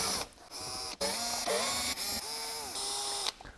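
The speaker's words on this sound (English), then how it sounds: "Let's start by undo the Torx bolts." Torx T25 bolts being undone on a BMW 525d G30, a series of close, whirring, pitch-sliding tool bursts separated by short breaks.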